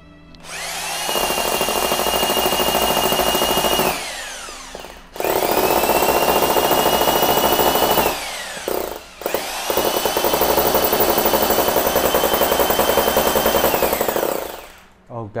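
A Bosch 368 drill set to concrete (hammer) mode runs in three loud, sustained bursts, each spinning up and winding down, with a rattling hammering texture and short pauses between runs.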